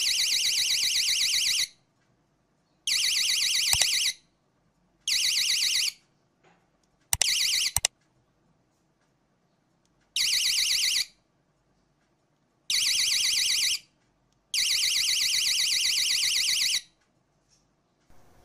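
A loud electronic alarm from a wireless door and window alarm beeps in short bursts of one to two seconds, seven in all, separated by stretches of silence, with no voices.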